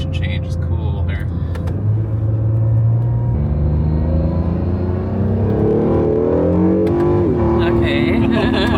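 An Acura NSX all-wheel-drive sports car accelerates hard on a winding mountain touge road in Japan, its engine note rising through several gears in a loud, close, rumbling surge, with brief clicks early on.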